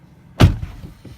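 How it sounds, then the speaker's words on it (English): Door of a Tesla Model 3 car opening: a single short, close thump with a brief release click, followed by faint settling noises inside a quiet cabin. "That opens the door."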